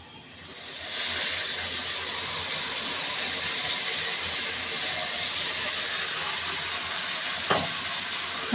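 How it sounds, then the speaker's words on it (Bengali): Mashed potato paste fries and sizzles in a pan with chicken, a steady broad hiss that starts after a brief quiet moment and holds on alone, with one sharp clink near the end. "ভালো করে এখন কষাবো"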